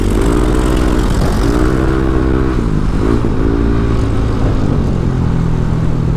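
A motorcycle engine runs loud and close through its muffler, idling with a deep, steady throb and a few quick revs that rise and fall, dominating the whole stretch with no talk.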